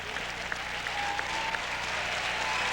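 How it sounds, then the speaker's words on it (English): Crowd applause fills a gymnasium at a 1993 high school boys Class C state championship basketball game, steady dense clapping with a few sharper claps, heard alone without talk. "gets a wonderful round of applause"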